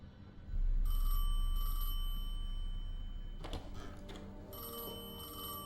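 A telephone rings in the Destiny 2 video game during a cutscene, a bright electronic double ring repeated in bursts over a low sustained rumble, with a thud partway through.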